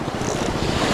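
Choppy, murky sea water slapping while fishing from a boat, a continuous rough wash mixed with wind buffeting the microphone.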